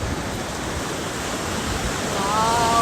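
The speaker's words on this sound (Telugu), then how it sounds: "మా ఊరి డ్యామ్ లెక్కనే తయారైపోయింది గంగమ్మ వాగు" The Gangamma stream is overflowing with floodwater after a day of heavy rain, like water released from a dam. It makes a constant loud, broadband rushing roar that grows slightly toward the end.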